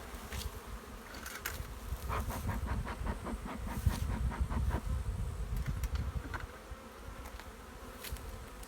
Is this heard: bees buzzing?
yes